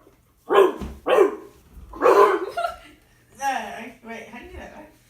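A person imitates a dog barking, several short voiced woofs and yips in an irregular series, close and alone.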